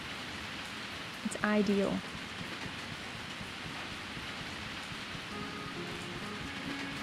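Steady rain patters down in the farming video game Story of Seasons: A Wonderful Life, a constant hiss filling the scene while a voice speaks briefly near the start.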